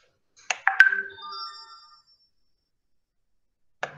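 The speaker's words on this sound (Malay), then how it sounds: "ada macam mesej masuk." A phone plays an incoming message notification: a brief run of bright, ringing chime tones that fades out, followed by a short click-like sound near the end. The surroundings are otherwise silent.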